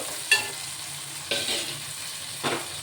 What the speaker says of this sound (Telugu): ఉల్లిపాయ వేగిపోయిందండి. టమోటా వేస్తున్నాను.